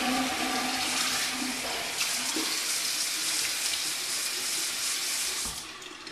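Water running steadily from a tap into a sink and down the drain after a shaving rinse, a continuous close hissing rush that eases slightly toward the end.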